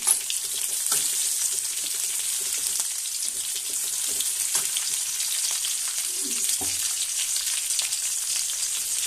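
Green chilies frying in oil in a pan for a gram-leaf bhaji, a steady, bright sizzle that runs continuously, with a few light stirring clinks.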